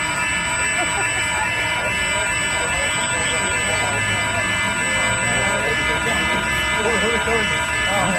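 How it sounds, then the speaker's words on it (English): Security alarms shrieking from stolen Apple store phones left lying on the ground, a continuous, loud, piercing electronic tone with several overlapping alarms and background voices. "Laying on the ground, alarms going off."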